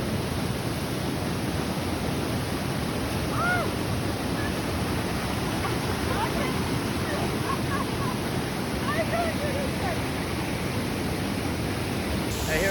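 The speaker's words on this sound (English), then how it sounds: "There's the waterfall." Powerful rushing water of the Pala-U waterfall in Hua Hin, Thailand, a steady broadband roar that continues unbroken and fills the scene, with faint voices buried underneath.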